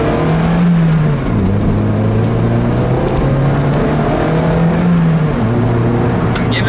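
Lamborghini Huracan engine accelerating hard on a rough road, loud revs rising through gears with two audible upshifts, a droning, strained roar heard close from inside the car.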